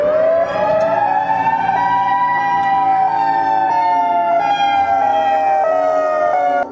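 An alarm siren wails loudly and close by, holding a long rising and slowly falling tone with no voices over it.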